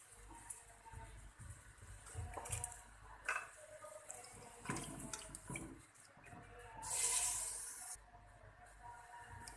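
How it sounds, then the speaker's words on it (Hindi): Water poured from a glass into a pressure cooker pot of mutton for achar gosht, a brief rushing splash near the end amid quiet kitchen sounds. "पानी इसके अंदर ऐड कर दिया है मैंने।"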